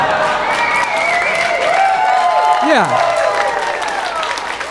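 Steady applause fills a stand-up comedy venue, a crowd clapping loudly and continuously, with a few voices and a brief whistle-like tone rising over it.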